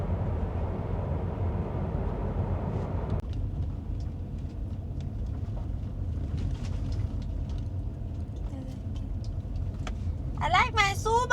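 Interior of a Subaru car on the move: a steady low road and engine rumble runs throughout, a little quieter partway in, with voices talking over it.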